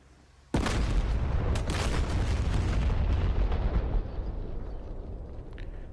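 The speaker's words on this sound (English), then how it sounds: "the new explosion effects and the shock things are pretty nice" Simulated bomb explosion in an F-16 Viper flight simulator campaign: a sudden loud blast strikes after a quiet moment, then a long, heavy rumbling roar that slowly fades over several seconds, with no talking.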